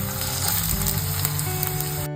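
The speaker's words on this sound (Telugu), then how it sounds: "మన ఉల్లిపాయలు ఫ్రై అయిపోయినాయి." Onions and slit green chillies with ginger-garlic paste sizzle steadily in a pan for a Telangana-style chicken curry, a loud, continuous frying hiss with no talk.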